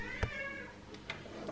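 A house cat meows softly at feeding time as its bowl is set down, giving one clear meow and then a couple of fainter ones against quiet room sound.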